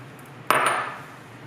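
A single clinking scrape of a utensil against a bowl while onions are folded into guacamole, followed by a short fading ring over quiet background.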